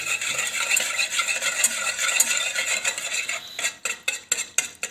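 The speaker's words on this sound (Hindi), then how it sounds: "और ये तमाम चीज़ें जो है हमारी, चीनी, नमक और काली मिर्च। और इसको अच्छे से मिक्स करेंगे।" Sugar, salt and black pepper being stirred into potatoes with tamarind pulp in a pot, a steady close scraping and clinking of a utensil that breaks into a few sharper separate knocks near the end.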